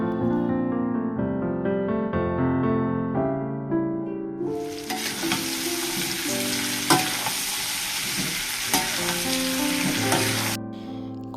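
Meat cooked with spices sizzles loudly in an old, blackened iron wok, quiet at first, then a steady dense frying roar broken by stirring scrapes and clanks, ending abruptly.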